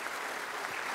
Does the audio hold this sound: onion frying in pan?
no